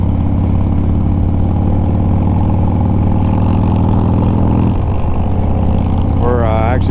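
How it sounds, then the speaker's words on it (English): A motorcycle engine idles steadily and loudly up close at a gas station in Sturgis, then revs and pulls away near the end, its pitch climbing as it takes off. "taking off out of the gas station from STURGIS there."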